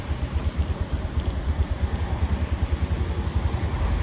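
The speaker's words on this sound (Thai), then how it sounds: "จะปรับรอบเครื่องยนต์ให้ดูนะ" A Honda Click 150i or PCX150 scooter engine idles with a steady, rapid low thump, its pulse quickening slightly as the revs are adjusted; no talk.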